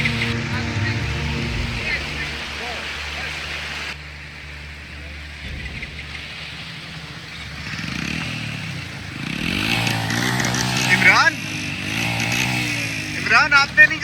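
An off-road motorcycle labours up a steep mountain track near Koramber Lake in Broghil, its engine revving unevenly and growing louder toward the end, with wind and rough background noise throughout.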